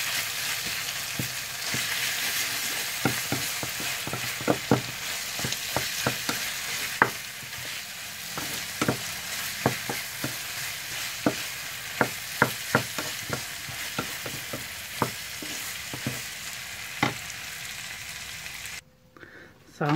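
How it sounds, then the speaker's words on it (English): Lasagne sauce with basil being stirred in a pan: steady frying sizzle throughout, broken by a series of sharp utensil clicks and scrapes against the pan at irregular intervals, close and fairly loud, no talking. "Also add some basil. Okay, and mix."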